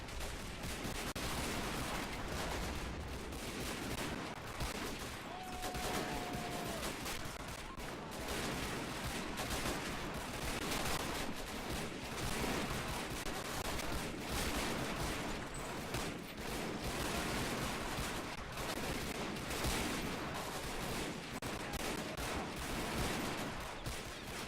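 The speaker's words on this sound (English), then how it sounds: "We're walking our artillery forward very slowly as you progress." WW1 Western Front battle in a video game, a dense, continuous roar of rifle fire, machine guns and artillery blasts layered without pause, loud and unbroken throughout.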